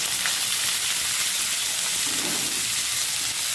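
A large batch of mixed vegetables for chow mein (carrot, spring onion, onion, beans and capsicum) sizzles steadily in a hot frying pan, a constant bright hiss with no pauses.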